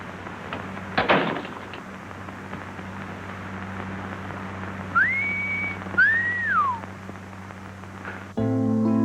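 Two short whistled notes, one sliding up and holding, the other rising then falling, over steady background hiss with a brief thump before.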